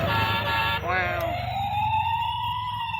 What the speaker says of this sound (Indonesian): Bunyi ambulan wiwi gimana bunyinya?